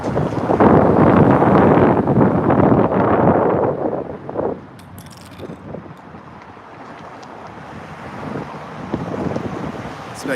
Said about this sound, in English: It's getting a little bit windy out.